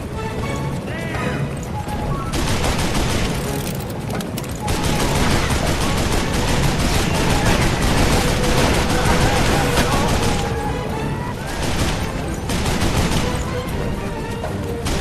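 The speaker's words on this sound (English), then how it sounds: "Get on the wagon and grab that Gatling gun!" Gatling gun fire from a wagon in the video game Call of Juarez: Bound in Blood, a loud dense stream of rapid shots mixed with galloping hooves and battle noise that runs the whole time.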